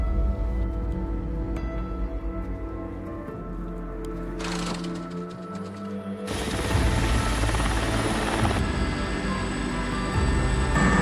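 A helicopter ferrying ground troops to a mountain wildfire line thumps steadily overhead with a loud, continuous rotor chop and turbine whine that swells louder toward the end, with no voices.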